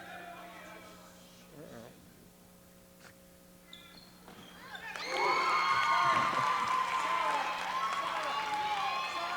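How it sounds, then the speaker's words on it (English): Small crowd at a 1991 high school girls' basketball game rising into loud cheering and applause after a quieter stretch with shoe squeaks, the ovation swelling and holding near the end. "a group of young men stand up and give a standing ovation to the ladies"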